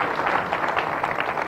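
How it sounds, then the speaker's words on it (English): An audience applauds President Museveni at the opening of Uganda's first tin refining plant in Mbarara, a steady, dense patter of clapping hands that holds at an even level throughout. "A round of applause to His Excellency,"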